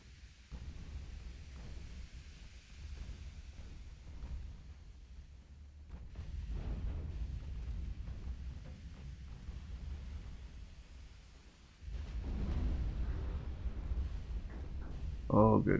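Deep rumbling explosions from torpedo hits on warships in the naval combat game Ultimate Admiral: Dreadnoughts, heavy booms swelling and fading over a low sustained roar, with a louder burst near the end.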